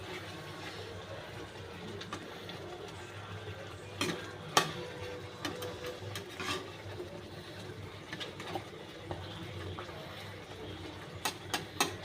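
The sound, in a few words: egg korma being stirred in a pan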